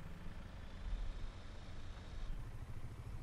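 A tractor engine in Farming Simulator 19 drones steadily at a low, faint level, a continuous mid-pitched running hum with no distinct changes and no voices over it.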